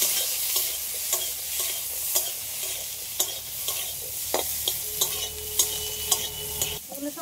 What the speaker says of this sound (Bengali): হালকা করে একসাথে নেড়ে নেব